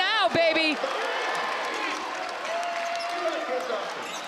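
Crowd noise fills a basketball arena during a men's game as a steady, broad roar of cheering, with an announcer's voice talking over the start.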